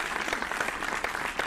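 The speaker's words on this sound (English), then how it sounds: "One more round of applause." A round of applause from an audience or crowd, steady dense clapping that holds at an even level for a brief moment with no speech over it.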